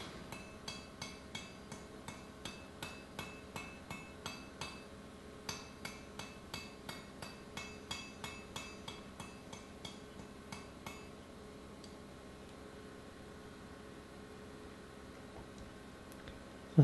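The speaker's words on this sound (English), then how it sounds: "You don't have to hit it particularly hard, you just have to guide the metal shut." A hammer taps hot iron to close an Anglo-Saxon stirrup for a forge weld, landing light, evenly spaced blows, roughly two per second, for about eleven seconds before the striking stops and the room goes quiet.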